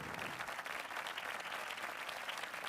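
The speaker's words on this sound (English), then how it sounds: "A giant round of applause for Matthew Hussey." An audience applauds steadily, a dense wash of many hands clapping for a speaker at a live talk event, sustained and fairly even in loudness from start to finish.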